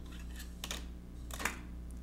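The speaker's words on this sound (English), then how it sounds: "As you get close to the end of your film, you're going to hear it come off of this take-up spool here." Film slipping off the take-up spool as a Canon AE-1 is rewound by its knob: a few faint, close clicks and brief rasping ticks over a low steady hum.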